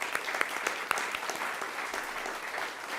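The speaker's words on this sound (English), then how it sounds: "I'd like to ask the audience here to give a round of applause to all of the candidates" An audience applauds the candidates at the close of a Second Congressional District GOP primary debate, a steady wash of many hands clapping at an even level for the full stretch, with no talk over it.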